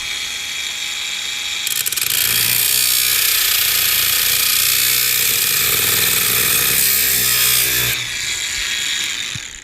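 A clamped stainless steel or brass tile edge profile is cut with a saw blade at low speed, producing a loud, harsh, continuous grinding whine that runs for about six seconds before stopping abruptly.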